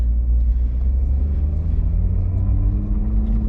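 A 2023 Toyota Supra Special Edition engine idles in a low, steady rumble, close and continuous throughout, with a faint tone rising slightly in pitch partway through and no talking.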